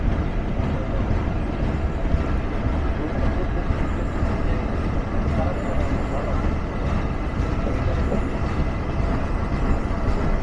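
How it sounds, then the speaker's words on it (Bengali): Nakshi Kantha commuter train at Srinagar station, a steady broadband rumble of the train running or idling at the platform, continuous and moderately loud throughout. "নকশিকাথা কমিউটার যাত্রাবিরতির দ্বিতীয় স্টেশন শ্রীনগরে"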